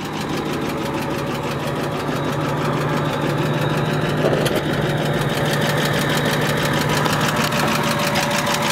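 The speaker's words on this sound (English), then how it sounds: "Flathead under the hood. Very distinct sound, right?" 1937 Plymouth P4 Deluxe Coupe flathead engine idling, a steady close mechanical chatter with a fast even pulsing rhythm and a faint ticking knock, loud and continuous with no talking over it.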